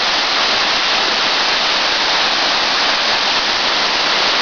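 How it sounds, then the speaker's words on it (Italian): A waterfall pours steadily on a sunny December day, its roar a dense, unbroken rush of white noise that stays loud and even throughout, with no voices. "Adesso vi faccio vedere un'altra zona"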